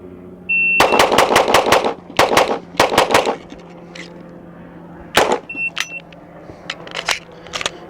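A pistol fires in a timed shooting drill: loud, close shots in quick strings of several rapid reports, a short pause, then more quick pairs and triplets, with a few scattered later shots.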